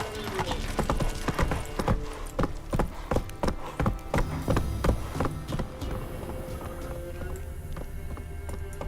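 Roach, a horse in The Witcher 3, clip-clopping along with steady, close hoofbeats that trot rhythmically and then slow and fade toward the end.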